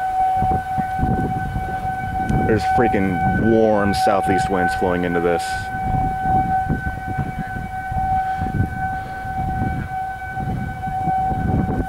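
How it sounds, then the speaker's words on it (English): Civil defense sirens sound during a tornado warning in Lincoln, Nebraska, holding a continuous steady wail throughout. Someone talks excitedly over them nearby while wind rushes. "I'm filming freaking civil defense sirens"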